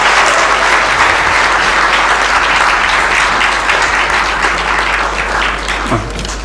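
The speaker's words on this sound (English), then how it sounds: "A round of applause for the MBA graduates, everyone" Sustained, loud applause from a large crowd for MBA graduates at a college convocation ceremony in a hotel hall, dense and steady for several seconds before easing slightly toward the end.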